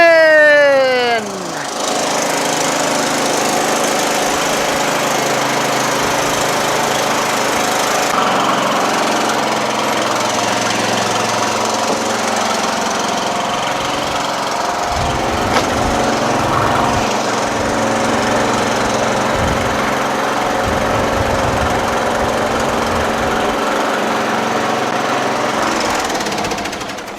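A Yard Machines MTD lawn tractor engine runs steadily and loudly throughout, with a harsh, constant mechanical drone and a few low knocks and thumps near the end.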